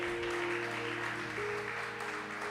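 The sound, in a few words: church congregation applauding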